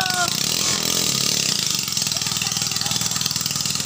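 A 6.5 hp ketinting longtail boat outboard engine runs steadily during a boat race, a loud buzzing drone with a rapid pulsing beat, while a commentator talks over it.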